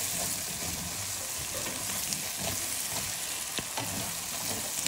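Egg with okra and bitter gourd frying in a pan while being gently stirred, a loud continuous close sizzle with scraping stir noises, no talking.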